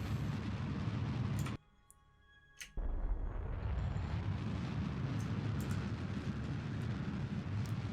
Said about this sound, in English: And we will now burn with this rocket again